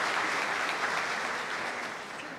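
Steady, loud applause for the godparents fills a church during a confirmation Mass, a continuous wash of clapping from a congregation with no talk.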